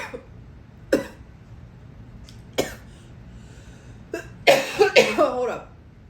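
A person coughs a few times, single sharp bursts spaced out, ending in a louder cluster of coughs, close and in a quiet room with no talk.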